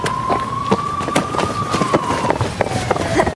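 A police siren wails with a steady, slowly falling tone in a thriller film scene set on a desolate, abandoned island, heard at a distance beneath scattered clatter and rumble before cutting off abruptly at the end.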